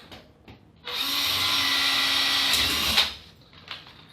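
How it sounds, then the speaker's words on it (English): A power drill whirs steadily for about two seconds while drilling a hole in a door for a mortice lock, then winds down, with a few light knocks before and after. "so I'm just going to drill one hole"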